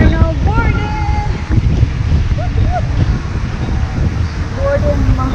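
Wind buffets the microphone aboard a boat heading out from a resort on Samal island, a steady low rumble throughout with scattered voices and music in the background.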